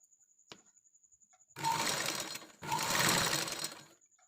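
An electric sewing machine stitches a saree fall with a zig-zag stitch in two quick whirring bursts of about a second each. A faint click comes before them, and the room is otherwise quiet.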